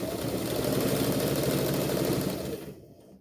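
A sewing machine stitches bias tape onto fabric for a flag, its steady motor hum and rapid needle chatter running close and loud for nearly three seconds before slowing to a stop.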